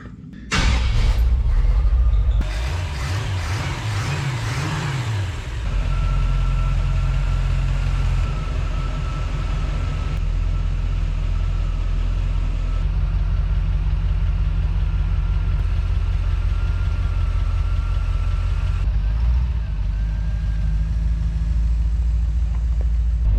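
A 1930 Ford Model A hot rod idles close by with a steady, deep, lumpy rumble. A few loud revs come at the start, then the engine settles into a long, even idle, running slightly rough as if flooding.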